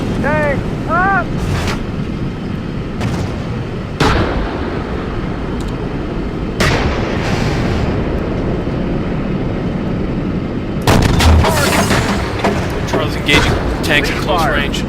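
Tank gunfire in the military simulation game Steel Beasts: several loud, sharp blasts spaced seconds apart, with a rapid cluster near the end, over a constant engine rumble while voices talk over radio.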